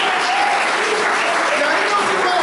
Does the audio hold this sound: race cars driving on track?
no